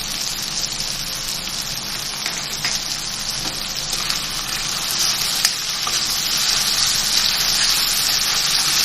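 Garlic ginger paste sizzles loudly with mashed tomatoes in a hot pan for a dhaba-style daal mash fry, a continuous close frying hiss that swells slightly toward the end with faint stirring scrapes.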